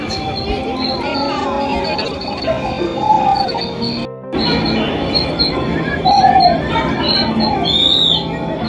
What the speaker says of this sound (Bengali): বিভিন্ন পশু পাখির কিচিরমিচিরের শব্দ